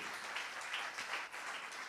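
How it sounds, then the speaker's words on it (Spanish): A church congregation applauds during a sermon, producing a soft, continuous patter of many hands that sounds distant and faint throughout. "Dale un aplauso a Jesucristo."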